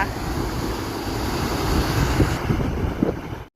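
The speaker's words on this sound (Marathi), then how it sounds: "कारण पाण्याचा आवाजच" Rushing water fills a mountain ghat (Phonda Ghat) during the monsoon: a steady, loud broadband rush with no pauses that cuts off abruptly at the end.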